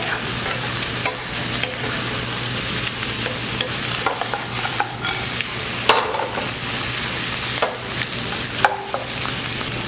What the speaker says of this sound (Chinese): 煎炒至虾身变红，